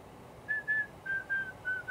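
A person whistles a short tune up close, a series of six clear sustained notes with brief gaps, alone against quiet room background.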